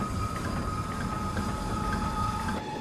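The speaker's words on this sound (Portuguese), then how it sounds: "A carga de Matarazzo está sendo trazida a São Paulo pelo funicular, um trem puxado por cabos." Cable-pulled funicular train hauling cargo toward São Paulo, giving off a continuous mechanical rattle and grinding clatter with a faint steady whine, heard close and steady without talk.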